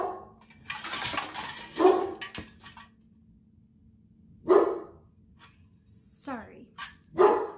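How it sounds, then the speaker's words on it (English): A dog barks in several loud, sharp bursts spaced a few seconds apart, reacting to a package delivery indoors, with a person speaking briefly between the barks and faint rattling of items nearby. "I think I got a package delivered and my dog is going ballistic over it."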